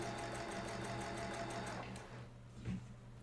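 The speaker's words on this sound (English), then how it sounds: "And again, I'm sewing from the outside to the inside." A sewing machine stitches quilt block pieces with a quarter-inch seam, running in a steady close rapid whir that stops after about two seconds, followed by a brief handling bump.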